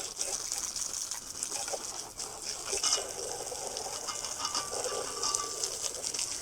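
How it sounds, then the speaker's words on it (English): Steady hiss of a garden hose spraying water over a Roborock RockMow Z150 robot mower, a continuous rushing wash with splashy fluctuations and faint background sounds. "rinse it off with a hose to see how much is loose enough to just disappear"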